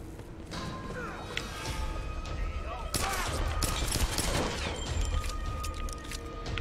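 Gunfire in the Tomb Raider video game, a busy mix of shots, crashes and impacts running continuously across the clip over a dense game soundscape, with a louder burst partway through.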